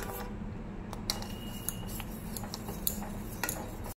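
A spoon stirs milk curdling with vinegar in a pot, a quiet scraping with sporadic light metallic clinks and ticks against the pot over a low background hum, with no talking.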